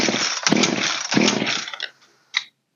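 An old Poulan 3616 chainsaw's two-stroke engine roars close up in throttled bursts, revving hard twice, then dropping away to near silence before one short sputtering pop.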